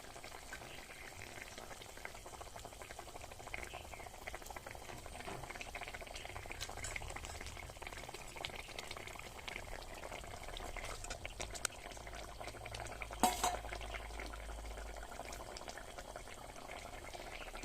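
Rohu fish pieces go into a cooking pan already holding ridge gourd for a light fish curry, with a steady close bubbling and frying hiss and a brief sharper burst of sizzle near the end; no one speaks.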